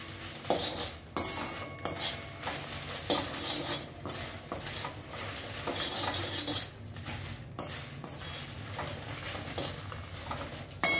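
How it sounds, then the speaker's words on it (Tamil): Dried red chillies, Kashmiri and hot varieties together, roast lightly in oil in a pan. A utensil stirs them in a run of irregular scraping and clinking strokes close by, with a faint sizzle and no talking. "மிளகாயை சேர்த்தாச்சு. அது வறுத்துடலாம் லைட்டாக."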